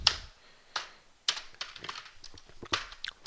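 Quick bursts of typing on a computer keyboard, irregular clusters of sharp key taps with brief pauses, close and clear with no talking.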